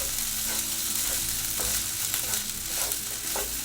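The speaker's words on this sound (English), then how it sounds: "our rice is really crackling now. So it's time to give it a stir" Vegan fried rice crackling and sizzling loudly in a hot pan while being stirred, with a dense continuous fry and occasional soft scrapes of the utensil.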